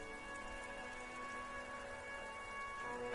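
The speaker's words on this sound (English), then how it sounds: "This rain will not let up anytime soon." Steady rain hisses in the video game Disco Elysium, soft and even throughout, with a faint tonal ambient hum beneath and no speech.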